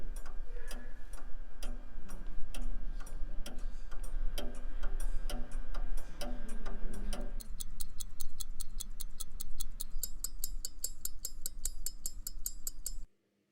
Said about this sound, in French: L'échappement permet donc de transmettre la régularité du pendule jusqu'à l'intérieur de l'horloge